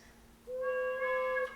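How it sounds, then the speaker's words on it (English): A quiet breathy pipe tone enters after a brief hush and holds steady with faint overtones for about a second before cutting off. "So this is an unvoiced pipe"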